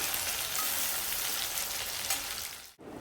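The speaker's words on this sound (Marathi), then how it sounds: "आता मी टॉमॅटो घालते आणि टॉमॅटो चांगला मऊ होईपर्यंत आपल्याला शिजून घे घ्यायचं आहे कांद्यासोबत" Chopped tomatoes fry in a pan with onions and ginger-garlic paste, a dense, steady sizzle heard close and alone that drops out abruptly just before the end.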